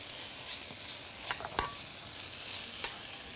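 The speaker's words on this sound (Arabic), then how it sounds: "هنحط حتة سمنة، هنحط معلقة من الثوم المفروم وحبة من البصل كده" Ghee sizzles softly in a pan with minced garlic and onion, a steady frying hiss broken by a couple of sharper clinks and stirring scrapes, close and fairly quiet with no talking.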